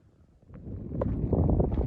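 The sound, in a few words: wind blowing into microphone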